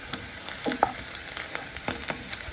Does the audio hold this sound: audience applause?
no